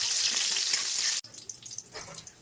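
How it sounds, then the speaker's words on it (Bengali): Chopped onion frying in oil with whole cumin seeds and dried chili for a banana-flower curry: a loud, dense sizzle for about a second that cuts off abruptly to quieter scattered clatter. "দেবো একটা পেঁয়াজ কুচি করে, সেটাও হালকা করে ভেজে নেব"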